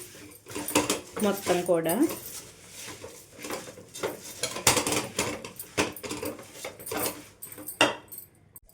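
Puffed rice, sesame seeds and dry coconut stirred together in a pan make busy scraping and rattling with metallic clinks, running steadily under someone speaking.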